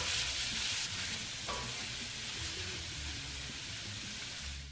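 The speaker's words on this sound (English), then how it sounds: "I'm just gonna let my onions and my celery get slightly translucent and let them release their flavor into this dish" Onions and celery sauté in a pan for a chicken with poblano strips dish, giving a steady, even sizzle with a few faint scrapes and no talking.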